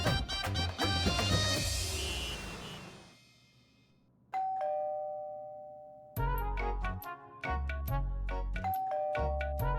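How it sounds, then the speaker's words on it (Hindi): A doorbell chimes twice with clear ding-dong tones, ringing out loudly after a burst of music, then repeating in a steady pattern. "कब से घंटी बज रही है, सुनाई नहीं दे रही है?"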